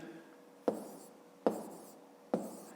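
Pen or pencil writing digits on paper while working a long division problem, three quiet scratchy strokes each starting with a sharp tap, close and soft.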